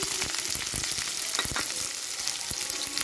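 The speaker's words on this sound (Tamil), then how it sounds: "இப்போங்க வெங்காயத்தை வதக்கி விட்டுக்கலாங்க." Two large lengthwise-sliced onions sauté for chicken chukka, a dense close crackling sizzle broken by quick clicks of stirring.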